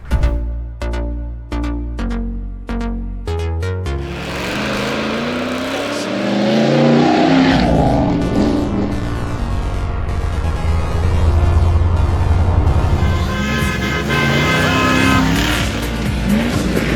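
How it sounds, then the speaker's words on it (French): A Jeep Grand Cherokee 4x4 competing in a French Trophée 4x4 off-road rally: a loud engine revs hard through rising gear pitches, then roars on with tire and gravel noise as the vehicle drives past close by. "c'est Hervé Dilondel avec son Grand Cherokee"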